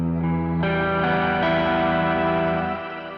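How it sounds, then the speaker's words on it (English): Electric guitar played through a Line 6 M5 stompbox modeler set to its octo verb reverb, with the effect brought in by an expression pedal: sustained chords ring out in a thick, shimmering wash, each new strum blooming and lingering before fading. "it changes to orange, and this is an octo verb"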